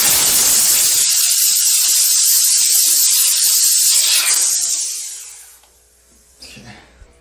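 An electric household high-pressure steam cleaner sprays steam onto tile grout in a loud, close, sustained hiss for about five seconds, then cuts off, leaving faint scrubbing and handling noise.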